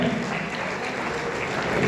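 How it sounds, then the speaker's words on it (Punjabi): Crowd applause at the inauguration of an IVF centre at a multi-speciality hospital, a dense steady clapping from many hands filling the room without a break. "ਜ਼ੋਰਦਾਰ ਤਾੜੀਆਂ ਨਾਲ ਆਪਾਂ ਰਿਵੀਲ ਕਰ ਰਹੇ ਹਾਂ ਆਈਵੀਐਫ ਸੈਂਟਰ"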